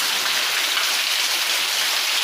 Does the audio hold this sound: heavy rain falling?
yes